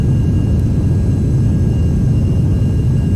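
A Beechcraft Premier IA business jet flying in X-Plane 11, heard as a steady, loud cabin-like rumble and engine drone that holds constant throughout without pauses.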